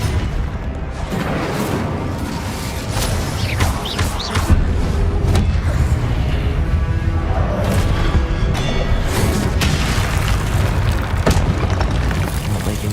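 An Incendio fire spell blasting in Hogwarts Legacy: a loud, sustained roaring rumble of flame and booming impacts filling the whole stretch, dense and continuous with bursts of crackle.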